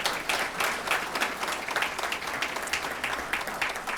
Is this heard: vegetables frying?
no